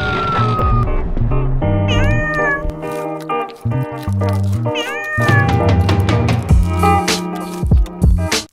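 Cats meow loudly and close by, repeating their calls in quick succession. Some calls stretch into drawn-out, wavering caterwauls, and the cries overlap and continue almost without pause.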